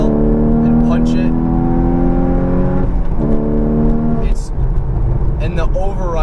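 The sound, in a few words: Porsche Cayman GTS engine, throttle blip and acceleration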